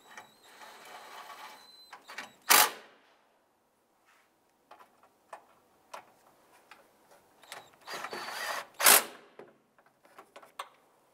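Bolts being tightened on an A/C condenser during an installation on a 2011-2017 Honda Odyssey, with close metallic clicks and ratcheting ticks and two sharp louder clacks, spread across mostly quiet stretches with no talk.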